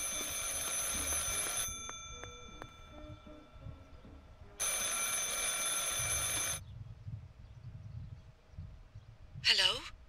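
An old-fashioned telephone rings in Martha Is Dead, two long shrill bell trills with a quieter gap between them, followed by a short tonal chirp at the end.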